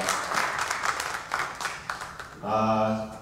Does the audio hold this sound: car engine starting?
no